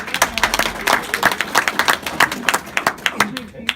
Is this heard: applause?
yes